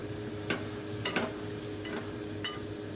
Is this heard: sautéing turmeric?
yes